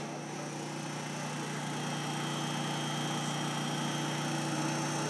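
Electric motor driven by a variable frequency drive, running steadily with a constant hum and electrical whine, loud and unchanging throughout with no talk.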